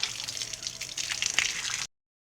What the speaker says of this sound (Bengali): আমি একটু পাগুলো ধুয়ে দিই